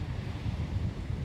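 Steady wind rushes and buffets a microphone on a beach, with low rumbling surf beneath it. The noise is continuous and loud throughout, with no voices.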